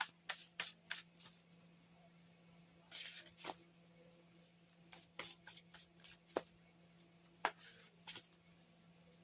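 Tarot cards shuffle and riffle in short, crisp bursts close by in a quiet room, with pauses between the flurries of slapping and sliding cards.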